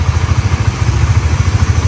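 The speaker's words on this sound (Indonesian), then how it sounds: "kenapa saya kasih suara mesinnya?" 2016 Honda CBR motorcycle engine idling close by: a loud, steady low thrum with a quick regular pulsing beat throughout, no voices.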